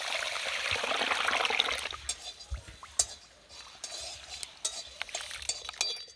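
Whole spices fry in a pan for chicken tehari, a loud, close sizzle for about two seconds that drops to a soft crackle, punctuated by light clinks of a utensil against the pan.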